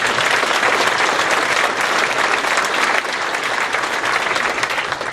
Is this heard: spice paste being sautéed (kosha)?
no